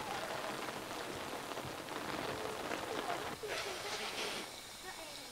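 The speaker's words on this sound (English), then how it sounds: "I don't like getting wet when the rain comes down from the sky." Steady rain falls and patters on surfaces, a continuous soft hiss throughout, with a voice talking over it.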